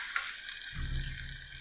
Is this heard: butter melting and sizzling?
yes